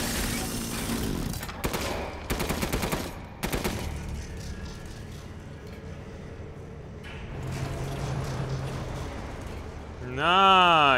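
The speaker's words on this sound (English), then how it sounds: "Machine gun." Machine gun fire in Resident Evil Village played in VR, rapid bursts of shots up close in the first seconds, then quieter game noise and a rising whoosh near the end, with a voice speaking at times.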